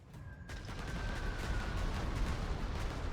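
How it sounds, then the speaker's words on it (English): Artillery fire pounding infantry in the video game Panzer Corps 2: a dense, steady barrage of rumbling blasts that starts abruptly and continues without a break. "Let's pound this infantry unit with artillery."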